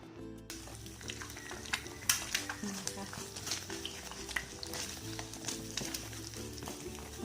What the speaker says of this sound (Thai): เราก็จะผัดไข่นะคะ ให้ไข่แดงกับไข่ขาวมันเข้ากัน